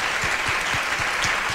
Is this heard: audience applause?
yes